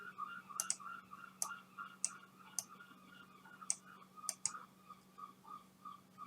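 Mouse clicks in music sequencer software, a scattering of short, sharp, quiet ticks at irregular intervals over a faint steady hum, with no voices.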